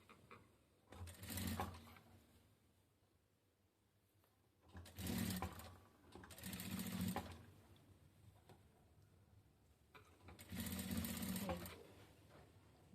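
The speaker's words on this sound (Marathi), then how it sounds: "आता मी इकडच्या साईडला पूर्ण स्ट्रेट शिलाई घेणार." Sewing machine stitching a straight seam on a katori blouse, running in three separate bursts of a few seconds each with quiet pauses between, close and moderately loud.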